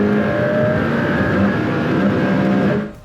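Engine of a new 2025 McLaren SUV droning and revving inside the Alcantara-trimmed cabin, a loud, steady, close rumble that holds for about three seconds before tapering off at the end.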